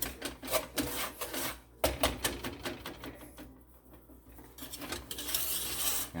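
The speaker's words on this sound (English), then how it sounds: "Stir that thing every few minutes." A spoon or spatula stirring caramel in a pot, repeated scraping strokes in uneven bursts with short pauses, close and fairly faint.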